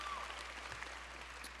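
Graduation audience applause at a New York City high school senior ceremony, a steady wash of many hands clapping, moderately distant, with a faint voice at the start.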